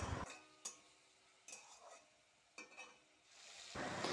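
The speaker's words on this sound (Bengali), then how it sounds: "আদা আর টমেটো দুটোই তেলে দিয়ে নাড়াচাড়া করছি।" Ginger and tomato stirred in hot oil in a pan, with a steady sizzle and several sharp scraping strokes of the spoon against the pan, close and fairly quiet, no talking.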